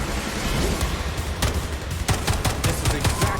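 Gunfire in the shooter game Atomic Heart: dense, continuous loud rattle of shots with sharper individual cracks punching through, close and alone.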